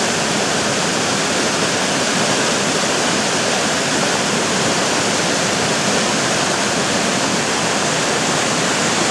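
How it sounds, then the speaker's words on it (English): A river in Alaska rushes steadily and loudly close by, a dense, unbroken roar of flowing water that holds even throughout with no voices over it. "Hopefully you can hear the river."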